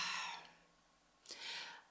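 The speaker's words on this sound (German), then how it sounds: "war ich noch richtig müde und musste gähnen" A person gives a quiet, breathy yawn: a long airy exhale that fades out, then a second drawn breath rising after a short pause, soft and close.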